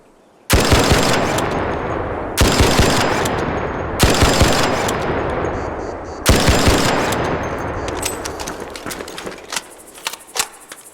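Four bursts of rapid automatic gunfire from a video-game gun fitted with extended barrels, each loud sustained volley followed by a brief pause, the last tapering into scattered single shots and clicks.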